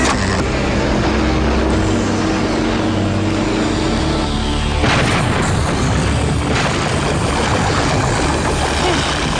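A loud cartoon explosion from a gas main going up, a sustained roaring blast with rumbling debris that stays dense throughout and swells again midway, no talk over it.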